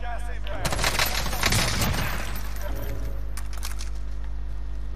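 Bursts of automatic gunfire in a Warzone battle royale match, a dense rattling volley in the first few seconds that thins to scattered shots, with a steady low hum underneath.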